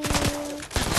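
Rapid gunfire from a Deadpool video game, a fast volley of shots across about a second, loud and close, with no talk.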